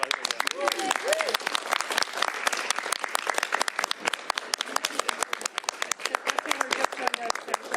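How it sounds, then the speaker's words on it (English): A crowd at a bill signing for Washington's clergy mandatory reporting law SB5375 claps steadily. The sharp, distinct claps are close and continuous, with people talking and cheering over the applause. "let's all round of applause"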